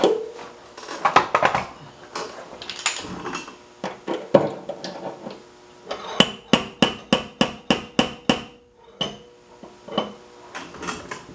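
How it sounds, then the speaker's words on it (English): Body hammer striking Subaru car body metal during bodywork, scattered uneven knocks at first, then a fast steady run of about ten sharp, loud metallic blows close by, followed by a few more spaced hits. "Get my body hammer, try to relax some of this metal."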